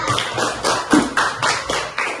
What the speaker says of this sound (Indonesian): Tepuk tangan untuk Allah